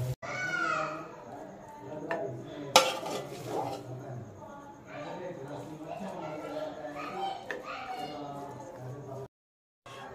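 A spoon clinks and scrapes against dishes as seviyan, a Punjabi handmade sweet vermicelli dessert, is served into a dish, with one sharp clatter near the start. Someone talks throughout.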